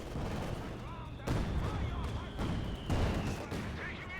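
Machine guns rattle in a Company of Heroes 2 match, with bursts of gunfire and artillery-like booms at modest loudness beneath a commentator's continuous talk.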